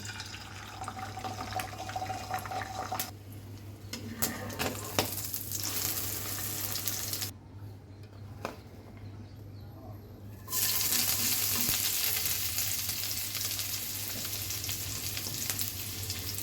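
Food frying in a pan during home cooking, a steady close sizzle with bursts of water and stirring noise, dropping briefly quieter midway before the hiss returns louder.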